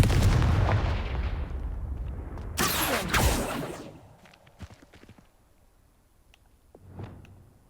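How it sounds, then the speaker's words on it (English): Confringo fire spell cast in the video game Hogwarts Legacy: a booming blast that rolls away, followed by a second bright burst and then quieter ticks and footsteps. "Confringo!"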